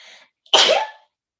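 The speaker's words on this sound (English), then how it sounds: "I think I might have to sneeze" A single forceful sneeze rings out close and loud after a brief intake of breath, followed by silence.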